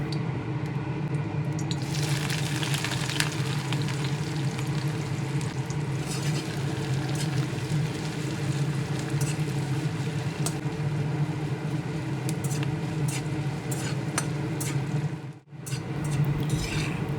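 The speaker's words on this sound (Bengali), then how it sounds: "ফোড়ন গরম তেলে নেড়ে চেড়ে হালকা ভেজে নিয়ে এর মধ্যে দিয়ে দিচ্ছি পেঁয়াজ কুচি।" Chopped onion with whole spices, cardamom and dried red chillies fries in hot oil for a rohu fish curry, making a loud, dense, steady sizzle that dips briefly near the end.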